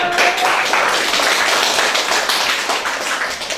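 A classroom of vocational high school students claps for presenting groups after a practical lesson on making transparent soap, dense continuous applause that is loud, close and steady throughout.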